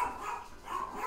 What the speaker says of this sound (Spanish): Basta de ladrar.